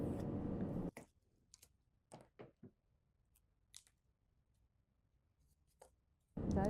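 Pencil or chalk strokes scratch across a paper pattern for a classic double-breasted jacket, heard as a few short, quiet scraping bursts separated by pauses, with talk before and after.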